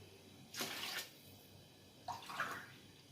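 Water from a bottle is poured into a cooking pot in two short, quiet splashing bursts, separated by a brief pause.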